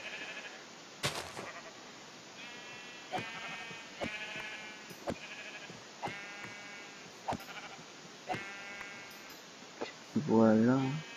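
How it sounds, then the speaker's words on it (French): Blocky sheep in the Minecraft 1.9 survival world bleat again and again, short wavering cries repeating about every second at moderate loudness, with a higher, longer animal call near the end. "C'est un mouton que je vois là."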